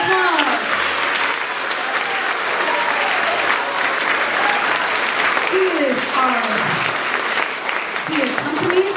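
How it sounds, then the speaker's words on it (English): Audience applause fills a school winter concert hall, steady dense clapping sustained for several seconds at close range, with a few faint voices mixed in. "a round of applause"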